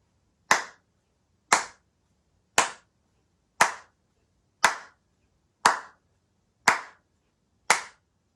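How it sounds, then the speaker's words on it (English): Hands clap a steady pulse, eight crisp, evenly spaced claps about one second apart, close and fairly loud, each with a short sharp decay and silence between. "First, let's clap a pulse together."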